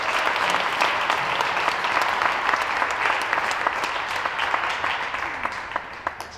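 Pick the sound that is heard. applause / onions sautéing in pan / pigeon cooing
applause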